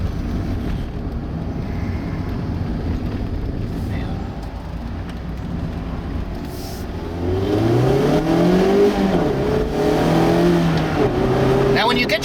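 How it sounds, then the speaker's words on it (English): A 2016 Mazda MX-5 Miata engine drones, then revs up and accelerates, pitch climbing and falling through gear changes, loud and close. "When you put your foot down and drive the Miata hard"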